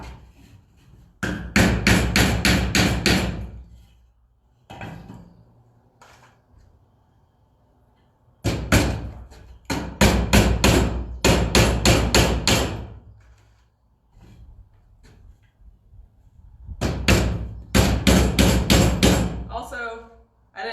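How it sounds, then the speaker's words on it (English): Hammer pounding nails into wood while building a DIY hanging planter, in three bursts of rapid, loud, close strikes separated by quieter pauses with faint speech-like sounds. "hold the nail as you're pounding so you are less likely to hit your fingers"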